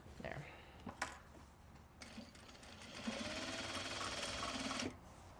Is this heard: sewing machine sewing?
yes